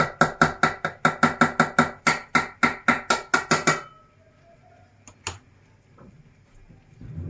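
A spoon mixing lentil pogaça dough in a bowl makes a fast, regular series of sharp clacks, about three per second, that stops abruptly, followed by quiet with a couple of isolated knocks.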